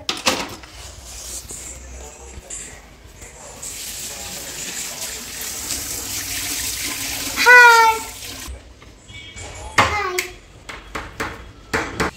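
Tap water runs steadily while a child's hands and legs are washed at a home sink, with splashing bursts and faint voices in the background.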